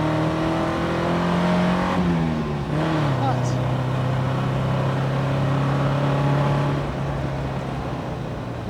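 A sports car engine drones steadily, its pitch dipping and then holding as the car drives on through corners, with a brief higher whine around the middle.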